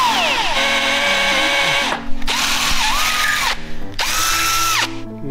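A power drill drives a tap to cut threads for a shouldered bolt, running in three loud close bursts with rising and falling motor whine and short pauses between them.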